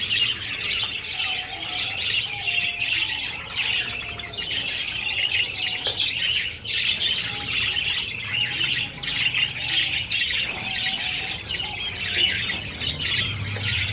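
A finch colony squawks and chirps continuously, a dense, busy chatter of many small birds close by with no pauses.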